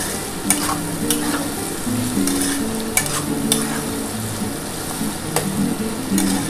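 Poppy seed paste with chilli powder, along with potatoes, beans and cauliflower stalks, stirred in a hot pan: steady frying sizzle with regular scraping strokes of a spoon against the pan, close up and without speech.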